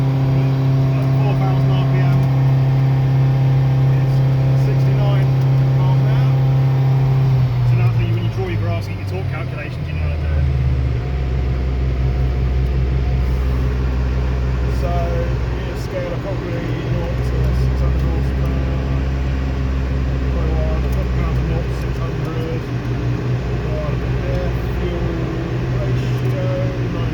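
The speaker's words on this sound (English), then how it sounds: "the dyno's resisting us right now, so we can't accelerate past the speed we set on the dyno" Turbocharged Vauxhall Astra H VXR with an EFR turbo conversion running on a dyno, a loud steady engine drone held at fixed revs that drops to a lower rumbling pitch partway through and stays constant.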